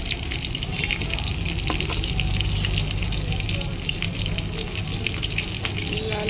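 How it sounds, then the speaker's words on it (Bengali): Fish, including a small bata fish, fry loudly in hot oil with a dense, continuous crackling sizzle and occasional sharp pops and spatter, close up, with no voices. "মাছগুলো ভালো করে এবার ভেজে নেব।"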